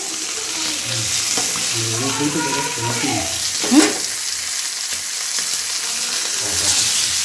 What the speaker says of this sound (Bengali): পমপ্লেট ফ্রাই রেডি হচ্ছে